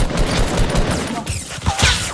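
Rapid bursts of enemy gunfire in a multiplayer shooter video game, several sharp shots in quick succession, loud and close, with no talk over them.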